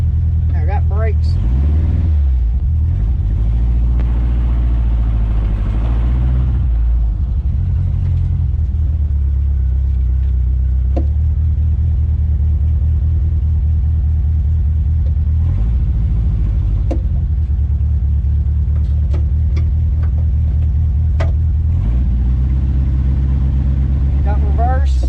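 A 1972 Volkswagen Beetle Domus pickup truck drives under its own power, its engine droning loud and close with several rises and falls in revs, with occasional knocks and clicks over the steady rumble.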